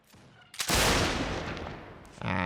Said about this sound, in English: Firing the cannons.